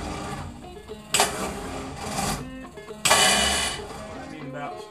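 A Crosley engine's starter, whose Bendix gear is not engaging the flywheel gear, whirs in two short mechanical bursts of cranking, close and loud, with quieter pauses between them.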